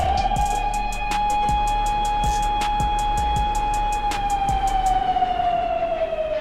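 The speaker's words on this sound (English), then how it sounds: "This is the Swarm Siren." The Swarm Siren from the College Basketball 2K8 video game blares as a loud, steady wailing tone with a slowly falling pitch, backed by regular rhythmic beats and a rapid pulsing buzz across the whole stretch.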